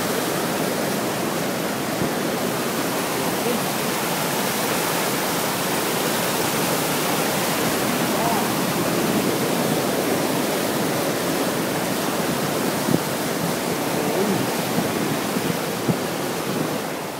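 Floodwater pours across a road in a continuous loud, broadband rush, steady and close, with no voices over the torrent.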